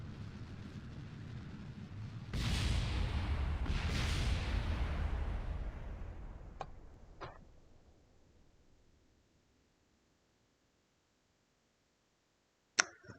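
Solid rocket motor in the JNSQ career game fires with a loud, broad roaring burn lasting several seconds, then fades into near silence, with a few brief clicks and a sharp tick near the end.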